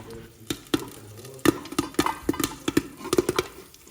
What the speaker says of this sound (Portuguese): A pipoca já está estourando.